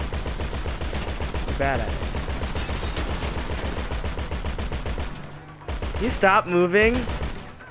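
Rapid automatic gunfire from a GTA 5 shootout rattles in dense, steady bursts for several seconds, pausing briefly before resuming, with players talking over the shots.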